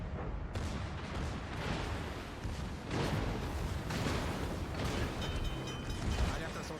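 Warship secondary guns firing in World of Warships, a string of booming blasts and rumbling impacts recurring at irregular intervals, fairly distant and dense, with a voice talking over them.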